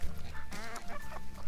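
Chickens cluck and murmur close by on a dry farm, with overlapping bird calls and a rooster-like note, continuous and fairly loud over outdoor background noise.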